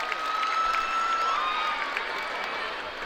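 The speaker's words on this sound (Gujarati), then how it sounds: "તમામ વિદ્યાર્થીઓને કરું જોરદાર તાળીઓના નાદ સાથે વધાવી." Loud, sustained crowd applause and cheering at a Republic Day school celebration in Amreli after a students' synchronized drill performance, with whistle-like tones riding over the steady roar.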